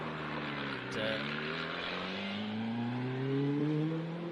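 A rally car powers along a gravel special stage at Rally Bay of Plenty in New Zealand, engine droning and rising in pitch through the gears, loud and continuous with a brief dip midway.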